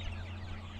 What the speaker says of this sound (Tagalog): Hala, ang daming manok.